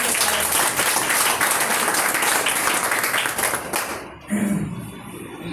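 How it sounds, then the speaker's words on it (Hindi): A crowd at a TRXGOLD Trading motivational gathering gives newcomers a loud round of applause, thick continuous clapping for about four seconds that drops away sharply, followed by a brief voice. "मैं चाहूंगा आप सब लोगों के लिए एक जोरदार ताली।"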